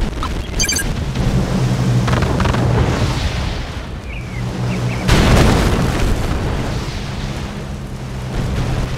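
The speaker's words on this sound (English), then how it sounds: "Warning, lightning storm created." Lightning storm thunder in the video game Red Alert 2, heavy booms and crackling bursts over a dense rumbling battle backdrop, with one especially loud strike midway.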